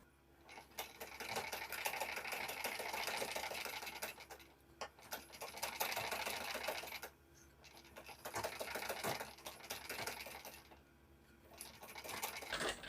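A sewing machine runs in long steady bursts while stitching a neckline strip on a blouse, pausing briefly between runs, close and fairly loud with no talking.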